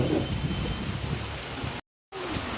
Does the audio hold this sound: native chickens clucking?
no